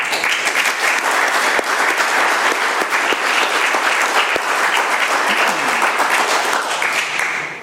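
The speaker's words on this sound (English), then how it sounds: "Let's have another round of applause." Loud, sustained applause from the crowd at an Alcoholics Anonymous meeting in Doylestown, Pennsylvania, with many hands clapping steadily and close for over seven seconds before fading at the very end.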